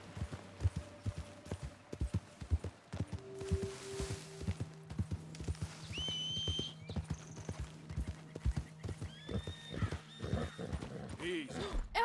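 In the video game Red Dead Redemption 2, a Standardbred horse's hooves clip-clop in a steady walking rhythm while it whinnies a couple of times; a voice talks briefly over it.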